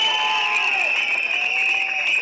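A crowd cheers at an outdoor public meeting in Perambur, with a steady, loud wash of voices and sustained high whistle-like tones that stay dense for the whole stretch.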